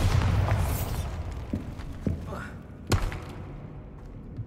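Spell blasts from Bombarda cast in Hogwarts Legacy, a few sharp booming bursts with crackling debris over a low rumbling game soundscape, the strongest crack near the end and others softer.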